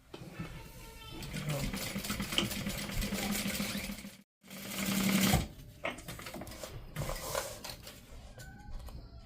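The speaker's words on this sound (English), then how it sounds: "I'm then going to sew this down at 1/4 inch." A sewing machine stitches fabric for an autumn crossbody bag, running in steady buzzing bursts with a brief pause in the middle, close and clear while someone talks over it.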